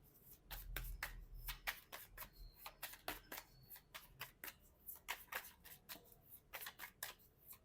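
Tarot cards being shuffled by hand, a quiet, close series of crisp riffling flicks and soft slaps in an irregular rhythm throughout.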